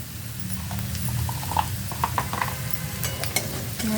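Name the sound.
asafoetida and chili sizzling in hot oil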